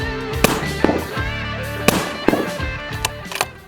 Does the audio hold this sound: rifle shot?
yes